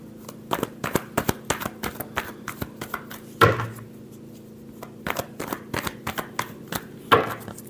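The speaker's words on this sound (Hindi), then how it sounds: "last shuffle" Tarot cards being shuffled by hand up close, a quick run of crisp, rhythmic riffling taps broken by two louder bridge-style cascades, with no speech.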